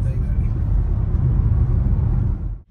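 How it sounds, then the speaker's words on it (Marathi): A car drives along with a low, steady engine rumble and road noise close inside the cabin, fading out abruptly at the end, with people talking over it. "चलव गाडी,"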